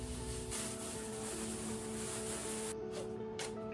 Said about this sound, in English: I'm gonna spray the primer